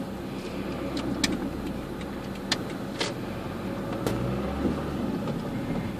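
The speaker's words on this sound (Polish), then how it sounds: "Więc ruszamy na jazdę próbną tym sympatycznym samochodzikiem." Suzuki Swift IV with a 1.3 diesel engine pulling away on a test drive, a steady engine and road rumble heard from inside the cabin, with a few light clicks and knocks over it.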